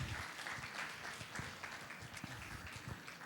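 Audience applause at a Japan festival (Nippon Odori), a dense, steady patter of many clapping hands, fairly faint and distant, lasting a few seconds.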